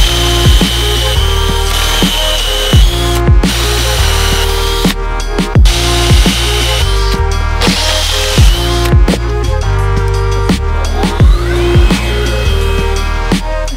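A power drill bores pocket holes into the underside of a wooden desktop board, producing loud, close whining bursts that rise and stop repeatedly in a quick rhythm.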